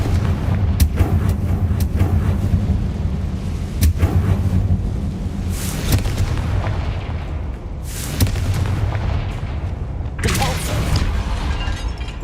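Confringo blasting spell explosions in Hogwarts Legacy, several loud booming bursts with crackling, sizzling tails scattered across the stretch, over a rumbling game backdrop.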